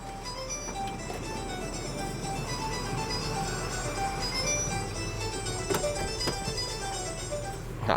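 Warning chime plays a steady electronic melody as the power sliding door of a Honda Freed+ closes, with a couple of soft mechanical clunks near the end.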